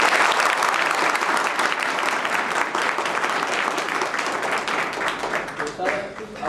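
A crowd at a child rehabilitation home event claps in welcome, dense and loud at first and then thinning gradually toward the end, with a few voices under the applause.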